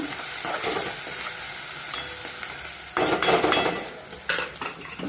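Masala chili powder being stirred into food in a pan, a steady sizzle with scraping spatula strokes that grow louder and busier midway, no voices.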